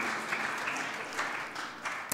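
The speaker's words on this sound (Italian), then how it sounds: "Un applauso anche per lei." Audience applause at a literary prize lecture event in Italy, a steady wash of clapping from a crowd lasting a couple of seconds, moderately loud and continuous with no talk over it.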